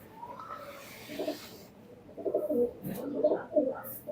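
Young Lalpuri pigeons coo softly at close range, with a few low, rounded coos in the first half and a busier stretch of cooing toward the end.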